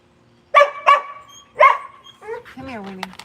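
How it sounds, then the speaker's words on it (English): Dogs barking excitedly in a yard: several loud, close barks, two quick ones, then another, followed by yips and whimpering whines, with a person talking over the end. "and these dogs go berserk."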